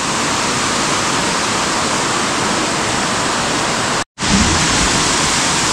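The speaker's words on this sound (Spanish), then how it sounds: "Ahí está la cascada y ya la forma de esta roca." Waterfall at Peña de Lobos near Presa Iturbide pours in a loud, constant broadband rush heard close up, interrupted by one abrupt silent cut before the roar resumes.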